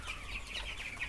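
Seventeen-day-old chickens on a poultry farm give soft, overlapping high cheeps and clucks, a faint continuous chatter of many birds at a distance.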